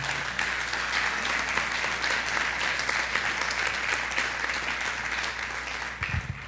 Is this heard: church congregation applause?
yes